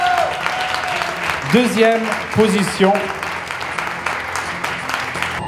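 Audience applauding at the finale of a kids' singing contest in Oron, a steady bed of clapping underneath a presenter speaking French over a microphone.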